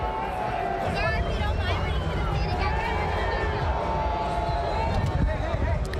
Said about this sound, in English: they're booing Donald Trump